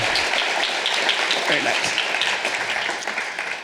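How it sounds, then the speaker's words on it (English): Applause from a live audience at a community foundation annual meeting for the Wild Hymns, a dense, steady wash of clapping that fades slightly toward the end, with a voice speaking briefly over it. "Let's give the Wild Hymns another round of applause."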